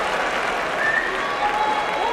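A home crowd at a sumo tournament claps and cheers loudly in a dense, continuous wave of applause after a bout win.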